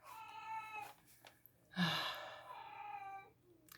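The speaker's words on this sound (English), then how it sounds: "Do you hear my cat?" A cat meows several times up close, drawn-out and plaintive, with a louder, rougher cry in the middle.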